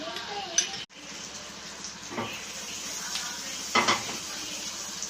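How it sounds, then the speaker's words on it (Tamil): A soft, steady sizzle of butter melting in a hot pan for soya chunks gravy, with occasional clinks of utensils against cookware. "பட்டர் வந்து நல்லா மெல்ட் ஆகட்டும்"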